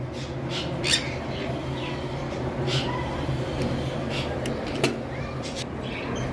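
Sharp little lovebird squawks pop out several times over a constant noisy background hum, brief and irregular, with faint voices nearby.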